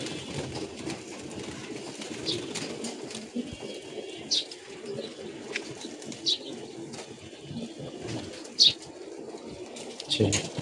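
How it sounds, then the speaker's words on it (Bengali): Pigeons in a loft coo and flutter while pecking at feed, a dense low murmur of cooing with scattered wing flaps and a few sharper calls, fairly close throughout. "সবগুলা কবুতর মাশাআল্লাহ খাবার নিয়ে ব্যস্ত।"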